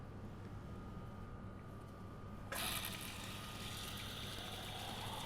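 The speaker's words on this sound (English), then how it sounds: "Next, I'm going to pour my liquid into the funnel." Liquid poured into a filter funnel during laboratory vacuum filtration, a steady broad splashing wash that starts abruptly partway through and continues over a low background hum.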